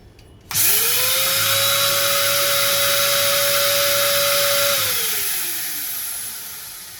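A dental vacuum forming machine switches on abruptly with a loud steady whine and hiss while forming a transparent retainer, holding a constant pitch before winding down in a falling tone.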